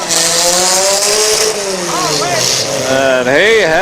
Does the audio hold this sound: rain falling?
no